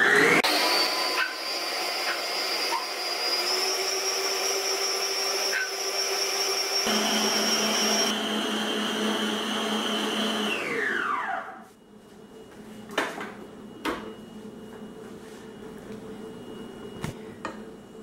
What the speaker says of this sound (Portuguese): Bater por alguns minutos até ficar um creme clarinho.